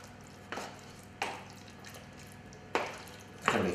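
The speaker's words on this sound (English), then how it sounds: "using a wooden spoon, we give this a good mix around there" A wooden spoon stirring a trout and prawn pie base gives four soft scraping knocks against the bowl at uneven intervals, close and fairly quiet with no talking.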